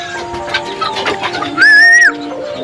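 Racing pigeons coo in a loft. Background chatter and rustling come first, then one loud, clear, rising coo lasts about half a second, close by.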